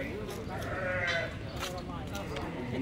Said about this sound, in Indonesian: cari domba-domba terbaik yang gemuk-gemuk.